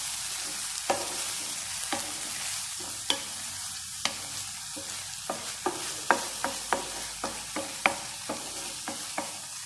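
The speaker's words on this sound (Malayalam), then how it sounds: "ഇപ്പോൾ നമ്മുടെ പയർ ഇടയ്ക്ക് ഇളക്കിയിടാം." Long beans frying in a pan for payar mezhukkupuratti, stirred now and then: sharp spoon clicks and scrapes in an uneven rhythm over a quiet steady sizzle, close up with no voices.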